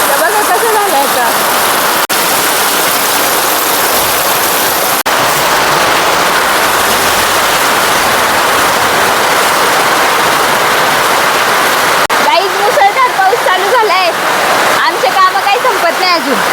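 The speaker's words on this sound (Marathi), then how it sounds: "आणि आता पाऊस बघा." Heavy rain pours down steadily outdoors in a town where people walk through it getting wet, a loud continuous hiss and splatter that stays dense throughout, with brief clattering of drops hitting a surface near the end.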